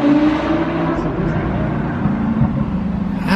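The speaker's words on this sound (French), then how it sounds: "j'ai retrouvé la Gallardo qui venait d'accélérer dans l'épingle" A Lamborghini Gallardo sports car accelerates out of a hairpin, its engine a continuous, steady roar held at fairly even loudness for a few seconds, heard from a moderate distance.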